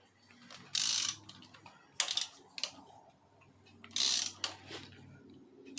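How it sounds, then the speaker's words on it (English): A ratchet wrench loosens bolts one by one in reverse order on a Mitsubishi 4D56 turbo-diesel engine during an overhaul, with three loud close bursts of rapid clicking separated by quieter handling noises. "To loosen it, you don't start from the middle, you start from up at the end, so you go in reverse."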